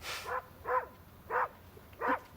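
A dog barks four times in evenly spaced, moderately close woofs, with no talk over them.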